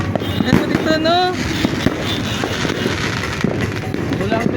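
New Year fireworks bursting outdoors, with sharp crackling pops scattered through a busy, noisy scene while people chatter and a voice rises in the middle.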